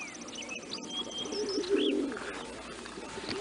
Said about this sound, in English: Elvis, that bird wants to go in the loft and Elvis keeps chasing it off.